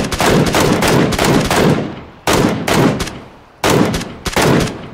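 Gunfire in the battle royale game PUBG, with three loud bursts of rapid automatic shots, each trailing off into a short echo before the next volley, close and without voices.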